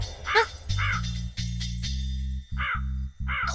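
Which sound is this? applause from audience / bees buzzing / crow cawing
crow cawing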